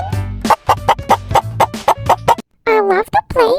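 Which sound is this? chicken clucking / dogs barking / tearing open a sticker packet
chicken clucking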